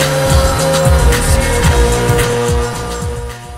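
A heavily distorted synth bass pad from a Korg Prophecy plays in a dense, gritty mix, thick low notes pulsing rhythmically under a bright buzzing layer, loud and continuous before easing slightly at the end.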